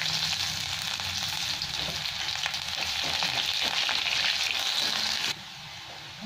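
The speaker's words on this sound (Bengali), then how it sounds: "আবার পেঁয়াজটা তুলে দিলাম।" Onions fry in a pan with a dense, continuous sizzle that cuts off abruptly near the end, leaving a quieter hiss.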